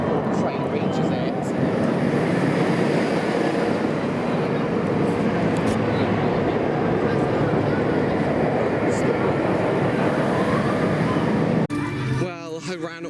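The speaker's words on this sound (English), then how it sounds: "I can hear it rumbling even before I can hear the track rumbling even before the train reaches it." A flying roller coaster train thunders along its steel track at Alton Towers, a dense, continuous roar and rumble that holds steady for several seconds before cutting off abruptly near the end.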